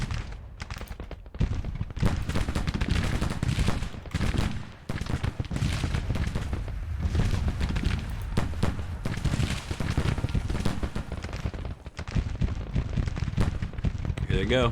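Civil War artillery booms and massed rifle fire from the Grand Tactician strategy game rumble almost nonstop, loud and dense, with someone talking briefly over the battle.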